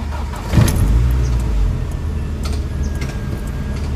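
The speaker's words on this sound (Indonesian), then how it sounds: "Sekarang saya akan mencoba menghidupkan mesinnya" The engine of a 1990 Honda Accord Maestro with four-wheel steering turns over with a brief starter burst, then settles into a smooth, steady idle heard up close.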